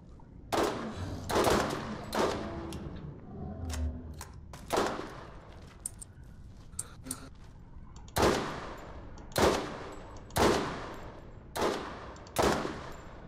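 Rapid bursts of gunfire in a Borderlands game fight against a lava crab worm, loud, sharp shots in irregular clusters and single cracks, each trailing off quickly, with no talk over them.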